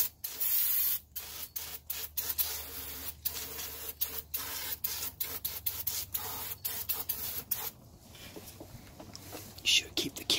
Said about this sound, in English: But we got some brake clean anyway. Get it all cleaned up and nice.